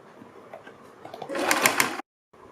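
A sewing machine runs in a short close burst while stitching pleats on a kurti neck, a steady whirring buzz that stops abruptly, with quieter handling noise before it.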